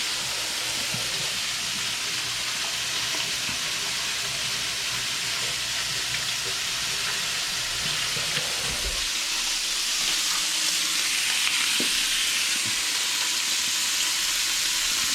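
Sausage and chorizo frying in a pan, a constant broad sizzling hiss that holds steady and swells slightly later on, near and even, without speech.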